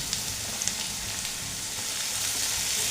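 Steady, close sizzling of ridge gourd and potatoes frying in a pan, a continuous hiss with small pops and no voices.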